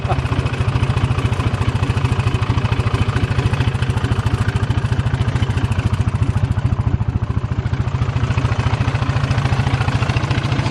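An old 1960s Pettibone machine, left sitting for years, has its engine running with a loud, rapid, even chugging pulse and mechanical clatter, close up and steady throughout.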